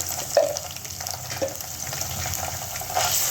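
Ginger paste, green chilies and onions frying in oil in a pan, giving a continuous sizzling crackle with a few louder pops and spoon scrapes, no voices.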